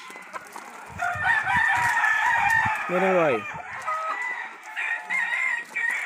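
Mondié Tres Peleas, a breeding rooster, lets out one loud, close crow partway through, with hens clucking around it and someone speaking briefly before and after.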